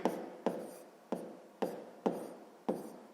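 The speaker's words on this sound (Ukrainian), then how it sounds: "Ну що ж, записуємо тоді перша дія" Pen or pencil writing on paper while working a sixth-grade maths step, six distinct scratchy strokes at a steady rhythm, close and quiet, with no talk.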